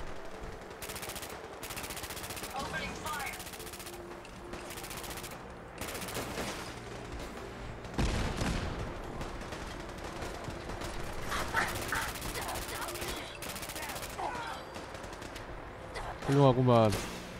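Rapid bursts of gunfire from a powerful gun in Fallout 4, repeated volleys spread across the stretch with a louder blast midway, under a man's chatter and game sounds.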